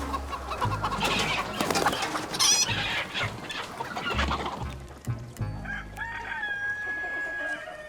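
Bantam chickens of French breeds cluck and crow together at close range, with busy overlapping calls and a rooster's crow standing out.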